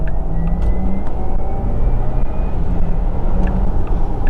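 A Porsche Taycan 4S electric car with a two-speed gearbox accelerates at full throttle, filling the cabin with loud, continuous road and drive rumble and faint wavering electric whine tones, without talk.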